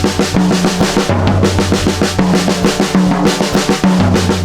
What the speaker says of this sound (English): this is a way it could be done in crossovers around your kit